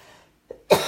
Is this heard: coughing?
yes